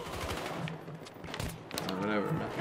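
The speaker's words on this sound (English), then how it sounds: "Taking heavy fire." Heavy multiplayer gunfire in Battlefield Hardline, with rapid bursts and scattered shots crackling under dense background game noise while a voice speaks briefly partway through.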